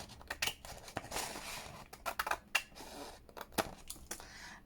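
Close, quiet snips and crisp cutting sounds from scissors, in irregular bursts with faint rustling in between.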